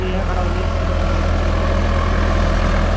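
A Sonalika tractor engine runs steadily while pulling a rotavator through field soil, giving a continuous close, loud low diesel throb with an even rhythmic pulse and no break.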